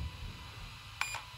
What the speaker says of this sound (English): It's gonna be a long beep.